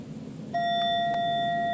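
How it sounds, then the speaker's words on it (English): A single bright bell strikes once and rings on with a clear sustained tone and faint overtones, close and alone after a quiet moment. "There's that bell."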